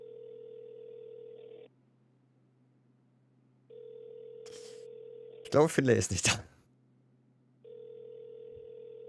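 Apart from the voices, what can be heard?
phone call ringing tone in a video game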